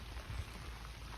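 Steady rain falls on an English cottage garden in December, a dense even hiss with low rumble underneath, continuous and close with no talk.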